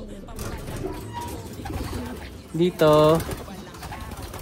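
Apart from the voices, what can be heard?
pigeons cooing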